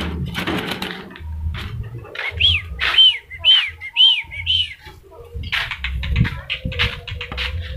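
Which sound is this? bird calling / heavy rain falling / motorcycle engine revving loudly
bird calling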